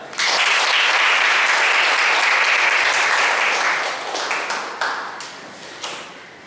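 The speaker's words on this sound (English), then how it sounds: "please welcome with a huge round of applause, Sangeeta." A large crowd claps loudly and steadily, the applause holding strong before gradually thinning out toward the end.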